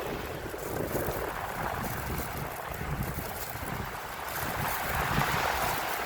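Sea waves and wind along the shore at Naik, Cavite, a steady broad rush of surf with wind buffeting the microphone, continuous and fairly even throughout with no voices.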